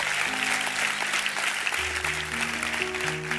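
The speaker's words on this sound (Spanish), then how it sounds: "Si ese es el aplauso, dáselo mejor a tu Padre" Church congregation applauding during a sermon, a moderate, steady patter of clapping with sustained organ or keyboard tones underneath that shift pitch partway through.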